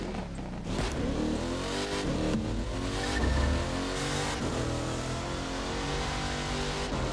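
A Shelby Mustang GT500 in the racing game The Crew 2 revs hard, its engine note rising and falling through repeated throttle blips, loud and continuous with no talk.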